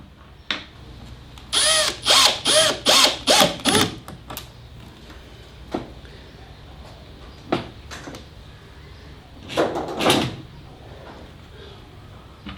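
A homemade 4WD drawer system built with Kreg pocket joints slides out along its metal runners, giving a burst of rapid rattling, clicking strokes followed by scattered sharp knocks and a shorter second run, close and loud.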